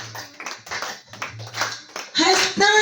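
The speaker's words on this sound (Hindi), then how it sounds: "बजाइए ताली" Devotees clap along during a Khatu Shyam taali kirtan, with sharp hand claps mixed under a singing voice that grows louder and more tuneful near the end.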